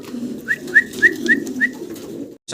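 A pair of black checker Roman pigeons coos nearby, a low murmuring hum under five quick, evenly spaced bright chirps, ending in a brief pause and a sudden noisy burst.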